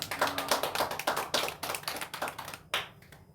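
Applause from a Korean church congregation at a Friday prayer meeting, close, crisp individual handclaps in a loose rhythmic patter that stops abruptly, leaving a last few scattered claps.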